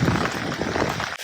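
Steady rain falls on a garden in the rainy season, a dense close patter of drops that holds at an even level before cutting off abruptly near the end.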